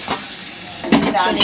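A spice tempering hits hot oil for a mango curry, giving a brief, loud sizzle and crackle close up with a stirring scrape.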